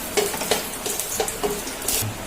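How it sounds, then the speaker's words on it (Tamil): Two cardamom pods frying in ghee for semiya kesari, with a soft sizzle and repeated light scrapes and clinks of a stirring spoon against the pan. "2 ஏலக்காயும் போட்டு நம்ம வறுத்து எடுத்துக்கலாம்"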